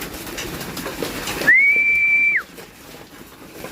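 A single clear, steady pigeon whistle rises then holds for about a second before dropping off, loud and close over a low background hum.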